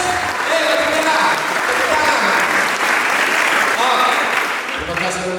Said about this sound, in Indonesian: Berikan tepuk tangan untuk si Ronimus.